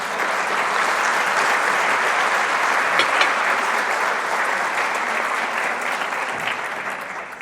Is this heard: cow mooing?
no